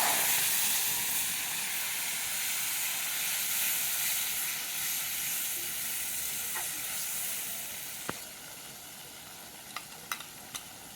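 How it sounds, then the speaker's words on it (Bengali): Onion and tomato paste sizzles steadily in hot oil with nigella seeds and green chillies for Bengali tel koi fish curry, a dense close hiss that eases slightly, with a few sharp utensil clicks near the end. "পেঁয়াজ আর টমেটো বাটাটা দিয়ে দেবো।"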